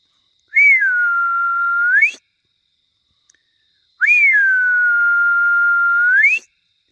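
A person whistles outdoors at deer near a cabin at night, two long, loud, steady whistled tones with a short gap of silence between them.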